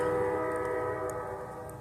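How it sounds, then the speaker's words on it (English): A train passes in the distance behind an outdoor spot, its sustained tonal horn-like drone and rumble steady and fairly loud, slowly fading, with no voices. "You can hear that train going up behind me."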